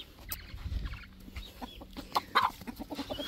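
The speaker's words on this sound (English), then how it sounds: "This is me trying to catch a chicken with a camera." A hen clucks in short, agitated bursts while being caught, close and fairly quiet, alongside rustling and handling noises.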